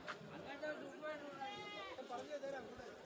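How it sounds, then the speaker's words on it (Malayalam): Goats bleat repeatedly at a livestock market in Kerala among buck and doe goats, several wavering calls close by under someone talking steadily over faint crowd chatter. "ഇതെല്ലാം മുട്ടനാടുകളും പെണ്ണാടുകളുമാണ്."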